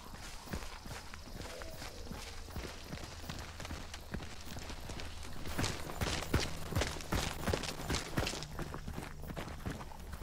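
Horse hooves clip-clop in the video game Hunt: Showdown, a run of sharp, irregular hoofbeats that grows busier and louder midway before easing off, set against a faint, quiet background.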